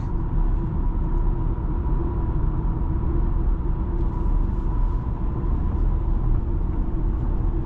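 A 2025 BMW X3 30 xDrive on the road, heard from inside the cabin as a steady low engine and tire rumble that stays even and constant throughout, with no talking.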